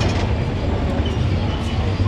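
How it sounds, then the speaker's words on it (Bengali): Madhumati Express train pulling out of Kamalapur railway station in Dhaka, a steady loud low rumble of wheels and carriage noise throughout, heard from on board. "আমাদের ট্রেন কমলাপুর রেল স্টেশন থেকে সাইডে যাচ্ছে।"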